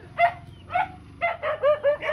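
A dog barks in short bursts, two separate yaps followed by a quicker run of four or five barks, fairly close and clear over quiet background.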